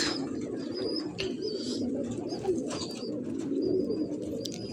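Racing pigeons coo softly and repeatedly amid a low outdoor rumble, with a few faint chirps from other birds.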